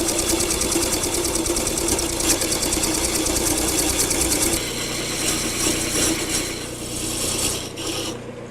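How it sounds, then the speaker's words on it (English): A parting tool cuts into a turned wooden foot on a lathe, giving a steady close scraping whir that eases and thins toward the end, with no talk. "the first thing I want to do is turn this portion of the foot. I'm going to use my parting tool to do that"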